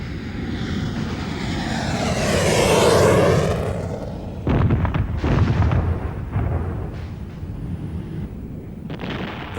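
Bomber aircraft dropping bombs in wartime, a loud swelling roar of aircraft engines followed by a series of heavy, rumbling explosions that come in bursts and fade.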